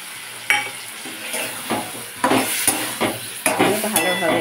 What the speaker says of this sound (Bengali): আবার একটু নাড়াচাড়া করে নিচ্ছি, হলুদের কাঁচা গন্ধটা যাতে চলে যায়।